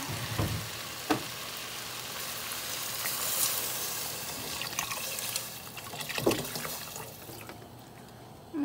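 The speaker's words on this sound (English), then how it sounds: "My onions are now becoming translucent" Onions softening to translucent in a soup pot give a low, steady frying hiss with a few soft stirring clicks and brief bursts, fairly quiet and with no voices over it.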